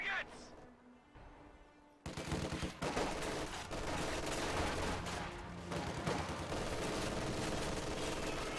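MG42 machine gun fire in the Company of Heroes strategy game, sustained battle noise with rapid bursts and other gunfire running continuously after a quiet opening.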